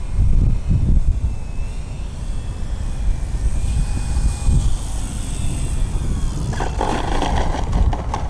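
An FMS Pitts 1400mm RC biplane flies overhead with a continuous buzzing engine and propeller drone at moderate distance, rising and falling slightly as it passes, with wind rumble underneath.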